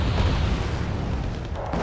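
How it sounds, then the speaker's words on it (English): Artillery explodes in the real-time strategy game Wargame: Red Dragon, a dense, low, rolling boom that rumbles on continuously for a couple of seconds, loud and close with no talking over it. "Get out of there before you get hit by artillery."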